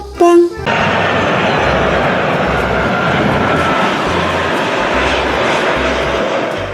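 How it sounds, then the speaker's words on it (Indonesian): Loud, steady airplane engine roar that fills the clip after a short opening sound, with some low rumbling underneath and no clear talk over it, heard during play with toy trucks. "lihat ini teman-teman, ada pesawat terbang"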